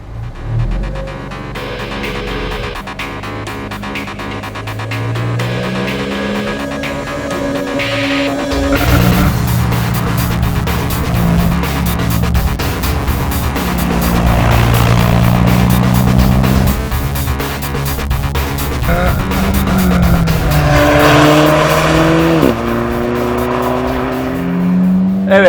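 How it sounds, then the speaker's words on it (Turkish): An Alfa Romeo 4C engine fires up in the Ferrari-derived cockpit and pulls away in first gear onto a race track, a steady engine drone that swells into a loud, rising rev as the car accelerates, with no talking. "marşa basıyorum. Birinci vitese alıyorum"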